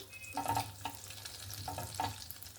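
Butter and white oil heating in a pan for malai chicken, giving a soft steady sizzle with a few louder stirring or scraping bursts, close and quiet with no talking.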